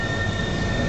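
Bronx Zoo monorail train rolling along its track, a steady close mechanical rumble with a faint high whine, heard briefly on its own.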